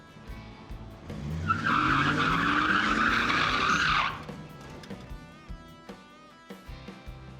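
An old cop car with 1950s fins is driven hard, its tires squealing in a loud, sustained skid for a few seconds before the engine settles and fades.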